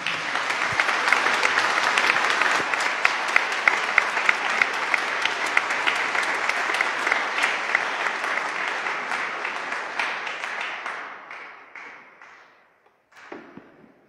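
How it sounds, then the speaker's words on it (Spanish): A congregation at a Catholic ordination mass breaks into sustained, dense applause that holds steady for about ten seconds, then thins and fades, with a few last scattered claps near the end. "Te damos un aplauso"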